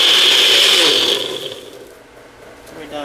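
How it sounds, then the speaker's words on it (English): A Nutribullet blender whirs loudly as it crushes crackers into crumbs, a high buzzing grind for about a second before winding down and fading. "Put it in a Nutra blender"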